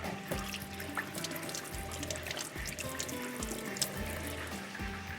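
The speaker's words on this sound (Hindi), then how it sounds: "अब मैं हाथ धो लेती हूँ" Hands being washed under a running kitchen tap, a steady stream of water splashing into a sink with small drips and shifts in the flow, close and continuous.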